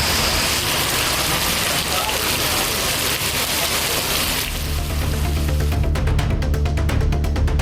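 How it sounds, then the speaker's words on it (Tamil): Heavy, sudden rain in the Ramanathapuram area pours down as a loud, dense hiss of water striking surfaces, steady throughout and shifting partway into a rougher, splashier texture. "ராமநாதபுரம் சுற்றுவட்டார பகுதிகளில் திடீரென கனமழை பெய்ததால் மக்கள் மகிழ்ச்சியடைந்தனர்."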